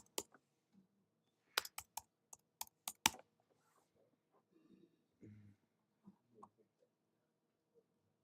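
Keys clatter on a computer keyboard in short, quick bursts of sharp clicks, close and fairly clear, with brief gaps and a soft murmur of talk now and then.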